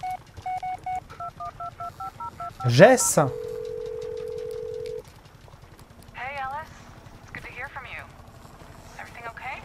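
Phone dialing tones ring out in the Blair Witch video game as a quick run of stepped beeps, then a long steady tone, with a voice calling out and other game sounds later.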